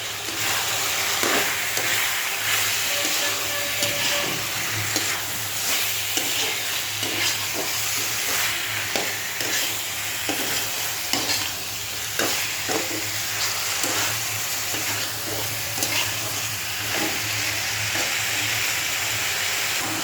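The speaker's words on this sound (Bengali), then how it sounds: "মশলাটা কষানো হয়ে গেছে, মাছটা এবার আমি দিয়ে দেবো।" Fish sizzles loudly in a pan of cooked spice paste, a steady close hiss and crackle broken by repeated scraping and clattering of a stirring spoon.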